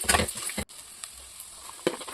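Onion, curry leaves, green chilli, ginger paste, beans and cabbage fry in a pan for vegetable bansi rava upma. A soft sizzle runs under brief stirring scrapes, with a short silent break and clattering bursts at start and end.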